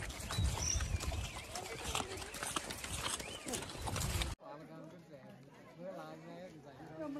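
A horse walks along a trail in Pahalgam, Kashmir, its hooves clip-clopping in a quick, uneven rhythm with nearby chatter, before the scene cuts to quieter talk.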